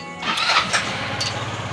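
A Honda ADV 175 scooter with a check engine fault code 10 and a rough-running complaint starts up during a test, cranking and catching into a steady, close idle with no talk.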